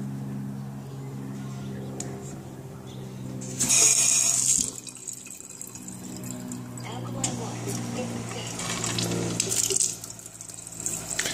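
Water runs from an alkaline water ionizer in bursts, a steady stream rising and falling, with a person talking over it.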